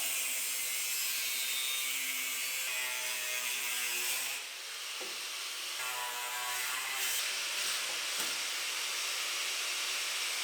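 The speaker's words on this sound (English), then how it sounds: "And now we'll just cut this piece off." A saw cuts a piece off the body of a 1965 Mustang in a workshop, giving a steady rasping stroke that runs for several seconds, breaks off briefly, then resumes in shorter bursts.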